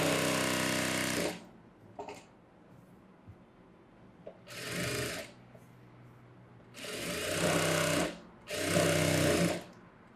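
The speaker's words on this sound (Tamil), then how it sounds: "அந்த இடத்துல இருந்து தான் தைக்க ஆரம்பிக்கணும்" A sewing machine stitches a princess-cut front-open blouse in bursts, with several loud whirring runs separated by quiet pauses, up close and without speech.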